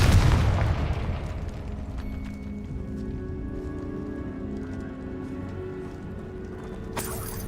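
Confringo fire spell from Hogwarts Legacy bursting with a loud explosive boom at the start, then a fading rumble and lingering magical hum, with a sharp crackle near the end.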